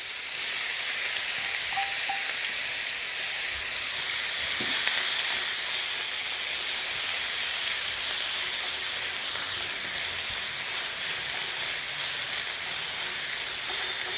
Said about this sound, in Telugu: ఇది కంప్లీట్ గోల్డెన్ బ్రౌన్ వరకు మనం ఫ్రై చేసుకోవాలి